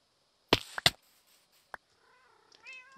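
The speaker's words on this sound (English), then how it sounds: "you can hear the constant meowing." A cat meows several times close by, with a couple of loud sharp bursts, a short gap, then a softer drawn-out meow at the end; no talking.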